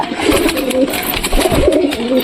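Pigeons coo close by in steady, overlapping rounds, with soft throaty calls repeating throughout.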